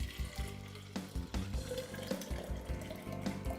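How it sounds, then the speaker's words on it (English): A homemade lemon, ginger and cinnamon drink is poured into a container, a continuous close liquid pour and splash with faint clinks of lemon pieces, alone without speech. "we want to pour it into a container like this"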